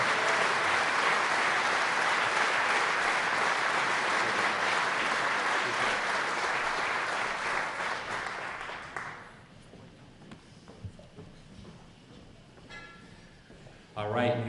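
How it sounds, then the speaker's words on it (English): An audience at an awards ceremony for the 2017 Business Leader of the Year, held by the Greater Rochester Chamber of Commerce, breaks into loud, dense applause that fades after about nine seconds into quieter room noise and a few scattered claps. "one more round of applause for the 2017 Business Leader of the Year"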